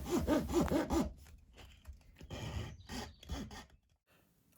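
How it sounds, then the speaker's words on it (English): A small fret saw, of the kind instrument builders use, cuts a groove around a powder horn. Close, quiet rasping strokes come in a quick rhythm at first, then slower, irregular strokes follow with brief pauses. "I'm using a small fret saw used by instrument builders"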